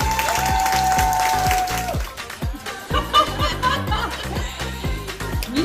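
Applause for the winner of an Estonian lash technician championship rises from an indoor audience, a steady patter of many hands clapping over a fading musical chord, with a few chuckles and scattered voices.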